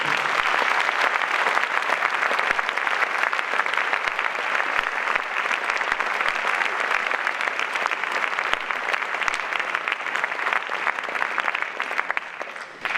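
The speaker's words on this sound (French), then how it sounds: "je vous demande de les applaudir" Sustained, loud applause from a sizable audience at a film festival closing ceremony in La Roche-sur-Yon, France, dense clapping continuing steadily without a break and tapering slightly at the very end.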